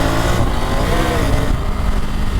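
Triumph Tiger 900 Rally Pro motorcycle engine with a revised firing order pulling hard, a loud, grunty, continuous roar with wind rush, heard close from the rider's position.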